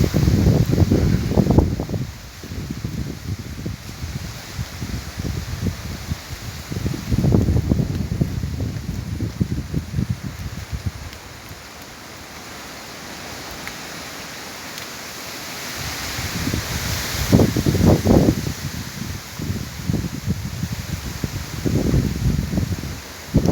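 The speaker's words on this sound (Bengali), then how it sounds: "দেখুন বাতাসের তীব্রতা" Strong gusting wind thrashing the leaves of large trees before a rainstorm, swelling in loud roaring bursts with a calmer lull midway, heard alone without voices.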